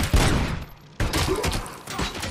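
Gunfire in the video game Robocop Rogue City: two loud bursts of shots with booming impacts, the second sustained, followed by a quieter rattle.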